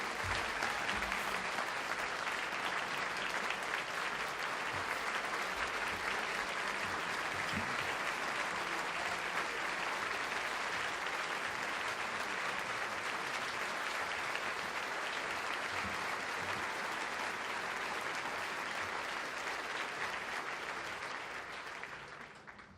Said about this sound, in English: That was a beautiful applause